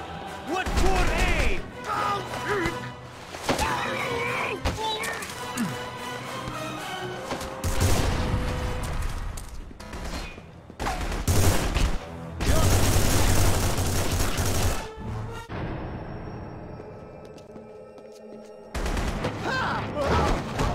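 Pistol gunfire from The Punisher video game, repeated loud shots and blasts in fast bursts amid crashes, with someone talking over the action.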